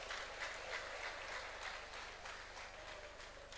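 Steady applause from a workshop audience on a development and local-innovation theme, a dense, continuous wash of many hands clapping at even loudness with no talk over it.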